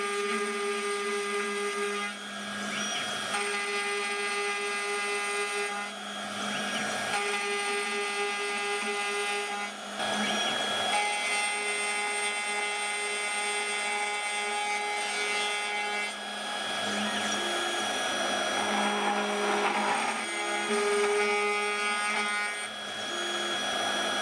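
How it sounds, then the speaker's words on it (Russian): A CNC 1419 milling machine cuts a chamfer and then a long through slot in a part for a miniature machine vise. A steady high tonal whine shifts pitch between passes, with several brief dips as the cutter moves. "Сверху снимается фаска и вырезается продолговатое отверстие насквозь."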